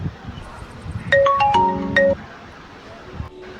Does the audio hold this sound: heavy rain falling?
no